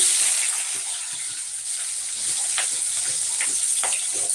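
Capsicum and green chillies sizzle steadily in a hot pan, a dense, even hiss with occasional louder pops and crackles, close and continuous with no voices.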